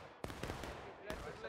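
Musket volleys in the Civil War game War of Rights, several sharp cracks in close succession with a rolling boom after each, mid-distance amid a noisy battlefield.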